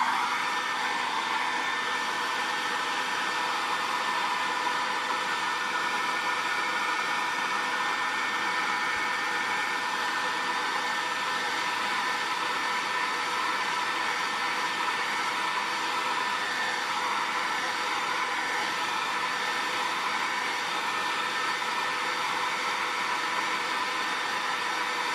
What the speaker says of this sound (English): I should blow dry all of that so I don't mix paints here.